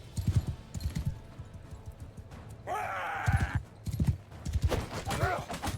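Rhythmic hoof clip-clop of a horse galloping in Mount & Blade II: Bannerlord, close and steady across the clip, with a brief whinny-like burst midway and someone talking over parts of it.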